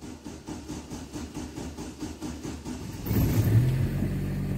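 A 2000 Chevrolet Astra 1.8 GL engine idles with an uneven, sputtering pulse, then rises abruptly into a louder, fuller running note, close by and with no voices.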